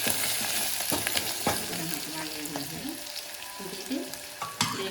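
Food fries and sizzles steadily in a pan for a tomato dal, with a spoon stirring and scraping at intervals and no talking.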